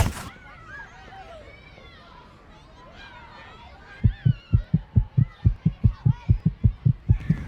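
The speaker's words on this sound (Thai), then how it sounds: "หัวใจเสียงดังแบบตุบตุบตุบเลย" A fast, steady heartbeat thumps loudly in a regular rhythm during the second half, after a quieter stretch of low background noise.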